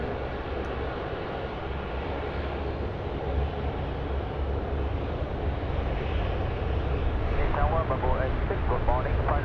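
A Bamboo Airways heavy jet on final approach to Sydney Airport rumbles as a steady, broad engine roar, moderately loud and sustained, with a radio voice and people talking over it.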